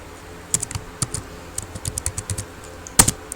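Typing on a computer keyboard while entering value labels in statistics software, a quick uneven run of close, crisp key clicks with a louder cluster near the end.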